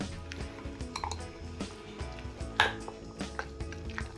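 A spoon stirs rava appe batter with cooked corn and peas in a bowl, giving repeated light clinks and taps of metal on the dish with soft scraping in between, close and fairly quiet.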